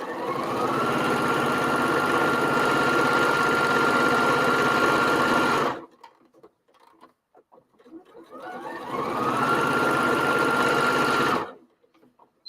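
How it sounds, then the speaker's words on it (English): A sewing machine stitches a grocery bag seam in two loud, steady bursts of rapid mechanical whirring, each lasting several seconds, separated by a quiet pause with light handling noises. "my machine will sew through it"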